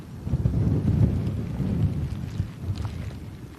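Thunderstorm with low rumbling thunder and steady rain, a deep continuous roll swelling and easing throughout, with some wind buffeting on the microphone as storms approach an outdoor plane-spotting spot.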